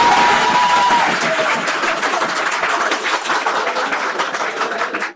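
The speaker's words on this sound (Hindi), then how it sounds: "जिस कोर्ट में यह सजा सुनाई गई, वहां लोग तालियां बजाने लगे और नारे लगाने लगे।" People in a courtroom clap and cheer as a sentence is announced against former prime minister Sheikh Hasina; a dense, steady wash of applause and crowd noise fades toward the end.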